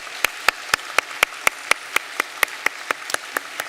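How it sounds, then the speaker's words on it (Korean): Church congregation clapping in unison during a Korean Sunday service to welcome new families, sharp, evenly spaced claps at a brisk, regular beat, close and distinct against a quiet background. "박수로 환영하겠습니다."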